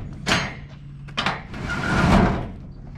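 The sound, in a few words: storage unit door being cranked open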